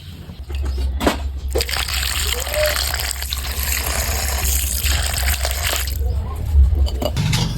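Cut khaga fish being washed in clean water makes a continuous close sloshing and splashing with trickles and occasional louder swishes of handled water.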